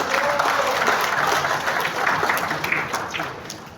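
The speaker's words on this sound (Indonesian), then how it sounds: "Tepuk tangan untuk Pak Edi." Applause from an assembled audience at an inauguration ceremony in Malang, a broad wash of clapping that swells and holds, tapering slightly toward the end, with faint voices mixed in.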